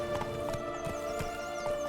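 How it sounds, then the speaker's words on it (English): Horse in The Witcher 3 video game, with a steady clip-clop of hooves and a neigh over a constant game music and ambient bed, close and fairly loud throughout. "Siana, fix your goddamn horse or I'm taking it."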